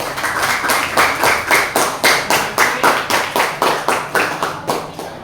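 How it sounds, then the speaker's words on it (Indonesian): A small group in a classroom session claps together for a presenting group, a rhythmic, evenly paced run of about twenty loud unison claps, close by and sustained. "Ya, boleh tepuk tangan buat kelompok 4"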